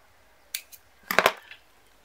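Scissors snip through macrame cord for a keychain, a couple of light clicks followed by a denser cluster of close, crisp cuts in a quiet room.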